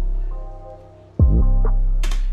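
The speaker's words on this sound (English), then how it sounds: "and it'll make like a little phaser sound." Automated filter sweep in Studio One producing a short phaser-like whoosh over a sustained synth tone, the sound dipping, then jumping up with swirling movement and a bright sweep near the end.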